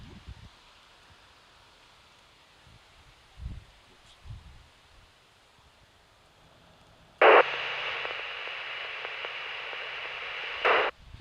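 After quiet with faint rustles, a 2-meter ham radio repeater on 147.000 MHz keys up with a click into steady loud static hiss for a few seconds, then cuts off with another click.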